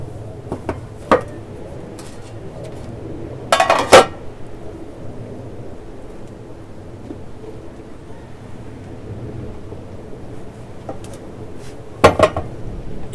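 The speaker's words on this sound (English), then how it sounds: "Now it's important to take the bread out of the tin while it's still hot and put it on a cooling rack." Freshly baked no-knead bread is taken from its tin and set on a cooling rack, with a few sharp metallic clanks and knocks of tin and rack over a quiet background.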